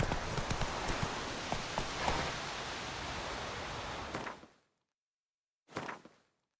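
Roach, the horse in The Witcher 3, gallops with a rapid, continuous clip-clop of hooves and rustling that suddenly stops into silence, followed by one brief burst of hoof or movement noise near the end.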